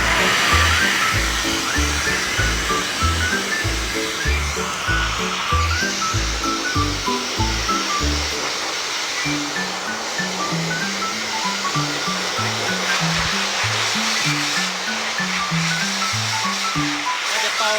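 A hair dryer blow-drying a pet's fur gives a loud, steady, close airy roar throughout, while someone talks over it.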